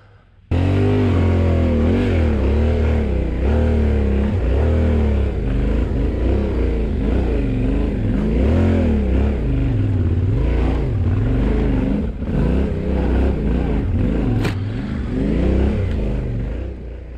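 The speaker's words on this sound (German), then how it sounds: "Wir hören hinter uns leise Motorengeräusche." Motorcycle engines, a Yamaha Tenere 700 and KTM 1290 Super Adventure, rev and drone steadily and loudly throughout, accelerating with shifting pitch on a mountain trail in Romania, no voices.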